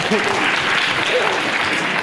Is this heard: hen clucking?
no